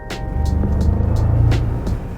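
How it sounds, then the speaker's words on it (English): Bentley Bentayga V8 in sport mode, a steady low engine drone with a mild rise and fall as the car drives along a winding road, heard from inside the cabin with road noise. "there's a nice V8 sound there that comes through"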